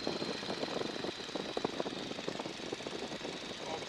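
A light aircraft engine held at 1,500 RPM in flight, a steady close propeller drone with a fast pulsing rasp, loud and continuous with no voices over it.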